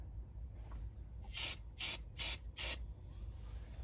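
Four short, sharp hissing bursts of aerosol brake cleaner spray in quick succession, close by, over a quiet low hum, during a blend door repair on a 2000-2007 Ford Focus.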